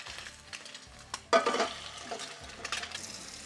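Food flipped in a hot titanium frying pan, a bright scrape and clatter as it turns, followed by steady close sizzling.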